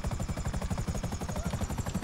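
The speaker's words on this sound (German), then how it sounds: "Mit dem Helikopter." A helicopter flies in the video game GTA V, its rotor thumping in a fast, steady pulse under a whining turbine, loud and close throughout with no voices.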